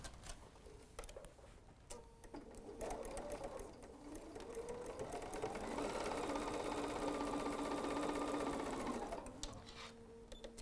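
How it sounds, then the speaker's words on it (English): A sewing machine stitches quilt seams in a steady, continuous whir that builds and runs for several seconds before stopping, with a few lighter mechanical clicks before it starts. "Let's go sew that real quick."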